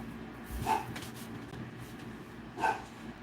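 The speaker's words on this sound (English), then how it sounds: "what's she barking at?" A dog indoors gives two short, separate barks about two seconds apart, fairly faint against a quiet room.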